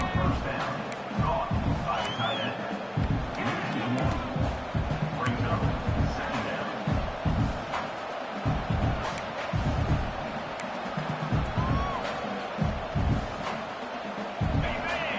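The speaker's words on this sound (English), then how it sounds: "And this crowd coming to life here, trying to help the defense get a stop with the offense pinned back." A college football stadium crowd at a USC versus Oregon game rumbles and cheers steadily as the defense tries for a stop, heard under continuous commentary.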